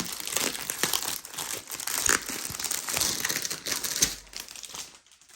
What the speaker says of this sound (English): I'm just gonna cut this very carefully.